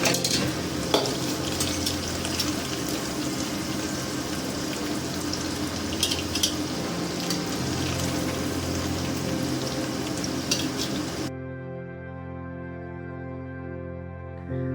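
Halved potatoes coloured with turmeric and chilli powder sizzle and crackle loudly in hot oil for biryani, with occasional stirring clinks, before the frying sound cuts away to quieter background.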